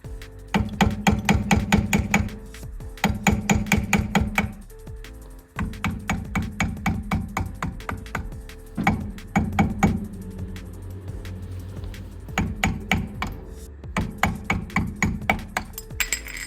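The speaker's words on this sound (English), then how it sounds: "What I'm going to do is get a flathead and hammer and go at it" Hammer strikes on a flathead screwdriver tap at a car's rear hub cap, sharp metallic clinks in quick rhythmic bursts of several blows with short pauses, close and loud throughout.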